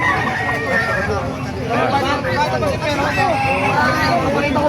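Roosters crow among gamefowl such as Boston Sweater and White Kelso at a bustling poultry market in Bocaue, Bulacan, with a crow rising over constant crowd chatter and voices close by.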